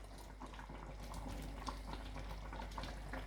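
Lamb navarin stew with green beans simmering in a pot, a steady soft bubbling and gentle liquid burble that holds at an even level throughout, with no voices.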